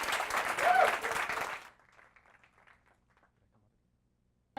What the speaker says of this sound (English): let's give a big round of applause for Pudge